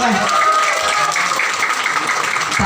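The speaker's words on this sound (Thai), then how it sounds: "ปรบมือให้เพื่อนหน่อย" An audience at a group event applauds someone called up front, a dense, steady wash of many hands clapping close by for nearly three seconds.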